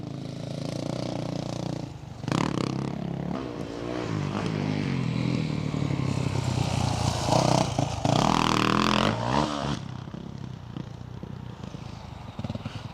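A motocross bike rides a supercross practice track, its engine droning at mid distance, then rising as the rider opens the throttle smoothly for a few seconds before easing off and fading back to a steadier rumble.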